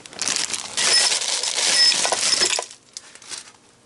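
Rusty motor mount bolts from a Jeep Wrangler 2.5/4.0 engine rebuild tumble against one another and the tumbler drum, making a dense metallic clinking rattle for about two and a half seconds, then a few faint scattered clinks.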